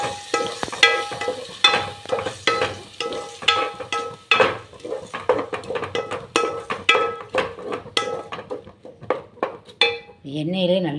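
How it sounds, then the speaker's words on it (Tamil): Ground masala for a village-style rock fish curry is stirred as it fries in oil, with a spoon clattering and scraping steadily against the pot over a faint sizzle and a voice talking. "இதில் எண்ணெயிலே வந்து இதை நான் வந்து நல்லா கிளறி விடணும்."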